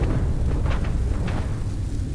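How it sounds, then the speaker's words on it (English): Spaceship explosions in the space combat of the video game Starfield, heard as a dense, loud rumbling burst with a few sharper pops spread across two seconds, with no talking over it. "Oh, there's explosions."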